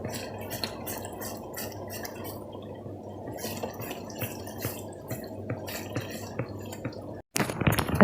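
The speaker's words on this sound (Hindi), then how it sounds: "मुसलसल आपने चम्मच हिलाते रहना है" A spoon scraping and stirring kheer, a rice pudding with sugar starting to melt and brown in a pot, giving soft rhythmic ticks and taps over a low steady hum, with a loud clatter at the end.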